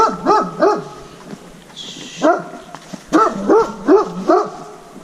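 Dogs bark in short bursts along a horse-riding trail near Barcelona, a pair of quick barks, a lone bark, then a run of four or five, fairly close, with no talk.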